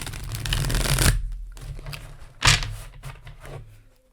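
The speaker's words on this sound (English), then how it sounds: "let me shuffle these real quick for you" A deck of playing cards is shuffled close up, with a long riffling burst followed by a short pause and then a second sharp riffle that fades into lighter card rustles.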